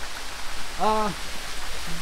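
Water pours steadily into the Palikata Khum waterfall pool on a Bangladeshi jungle trail, a constant broadband rush, with a short voice breaking in briefly over it.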